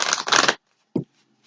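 Tarot cards are shuffled close up: two quick, dense riffling bursts back to back, then a single soft tap as the deck settles, followed by near silence.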